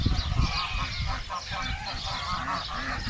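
Geese honking together on a farm with other fowl, a busy overlapping chorus of calls, close and fairly loud throughout.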